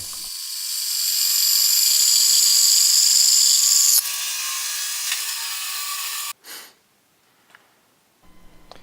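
A Laguna 14 SUV bandsaw cuts through 6x6 lumber with a loud, steady high whine for several seconds. It then drops in pitch, stops abruptly, and is followed by a brief knock and quiet motor hum.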